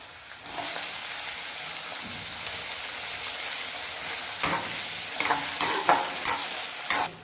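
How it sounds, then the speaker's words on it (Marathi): Tomatoes hit onions already fried red in a hot pan: steady sizzling and frying hiss, followed by a few scraping stirs and clinks of a spoon near the end. "आता आपण यामध्ये टाकायचे टोमॅटो"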